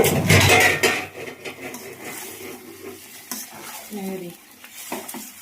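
Pressure-cooked food being poured into a hot pan while cooking Bengali-style, with a loud sizzling rush at first, then scraping and stirring of utensils against the pan, and a brief voice near the end.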